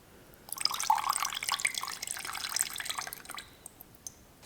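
Fuel stabilizer is poured into the tank of a Husqvarna lawnmower, a faint trickling splash of liquid lasting a few seconds before tapering off.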